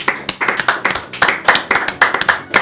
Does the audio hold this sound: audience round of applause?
yes